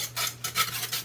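Vanilla and almond extract mixture being whisked in a bowl for apple cinnamon monkey bread, a close, brisk rubbing swish in quick repeated strokes, with no voices.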